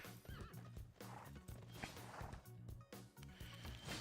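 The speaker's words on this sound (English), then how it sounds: "runaway horse from Spain" A horse in the strategy game Civilization VI gives a loud, drawn-out whinny followed by clip-clopping hooves, game sound effects layered with busy background game audio.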